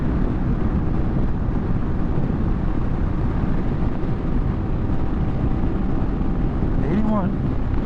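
A CFMoto 300NK motorcycle engine held at full throttle in sixth gear, a steady, dense roar blended with heavy wind rush from riding speed, loud and continuous, with a brief voice near the end.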